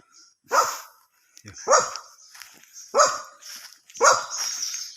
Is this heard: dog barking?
yes